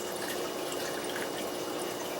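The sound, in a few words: water filling a rolling plastic trash can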